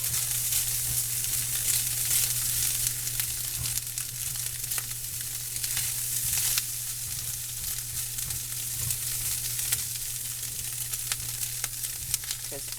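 Canned ham frying in a pan with little fat rendering out, giving a steady, soft sizzle that runs unbroken throughout at moderate level, with a constant low hum beneath and no talking.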